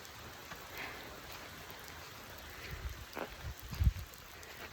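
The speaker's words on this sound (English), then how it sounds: "But it's really raining." Pouring rain at a campsite makes a steady, faint hiss throughout, with a few soft nearby knocks and rustles toward the end.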